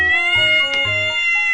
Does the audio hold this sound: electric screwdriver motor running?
no